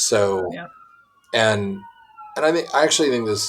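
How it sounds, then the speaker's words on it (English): A police siren passes outside in Hanover, New Hampshire, a faint steady wail running behind and between bursts of close, loud indoor talking. "I'm sorry about that siren if you're hearing that."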